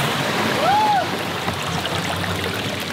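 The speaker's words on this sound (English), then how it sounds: "There's water flowing down." Steady rushing of water flowing down rocks in a small waterfall in the Cairngorms, close by and continuous, with a brief whistle-like tone early on.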